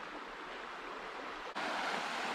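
A clear creek running beside a road flows with a steady, close broadband rush of water that grows slightly brighter and louder partway through, with no voices.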